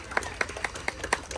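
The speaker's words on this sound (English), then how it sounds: "Big round of applause for her." A holiday festival crowd at Epcot gives a short round of clapping, a handful of distinct claps at an even rhythm, moderately faint and brief over a quiet background.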